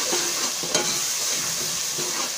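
Tomatoes frying in a pan for black masoor dal, a close, steady sizzle with soft scraping stirs throughout and one brief clink.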